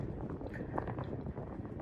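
Steady outdoor wind rushing and buffeting a microphone on a quiet winter day in the countryside, a continuous broadband roar with gusty swells and no talking.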